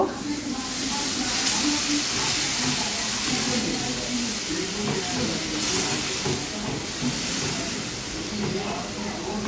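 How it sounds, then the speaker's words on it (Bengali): Water poured into a hot pan of Bengali fish curry with small fish, sending up a steady, loud hiss and sizzle that holds evenly throughout with no clear breaks. "দিয়ে এবার আমি একটু জল অ্যাড করব।"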